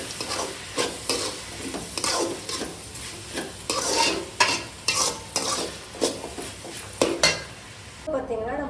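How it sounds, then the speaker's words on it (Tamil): Mango rice with coriander leaves stirred in a pan, a spoon scraping and clinking in repeated strokes about every half second, with a light sizzle underneath; close and fairly loud, no talking. "மல்லித்தலை போட்டு சும்மா இப்படி ஒரு கரட்டு அப்படி ஒரு கரட்டு கற்றுக்கோங்க"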